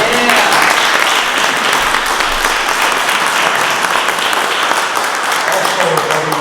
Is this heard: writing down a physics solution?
no